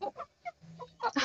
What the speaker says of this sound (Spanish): Por aquí les muestro esta pollita, es pata corta, súper copetona, súper buches.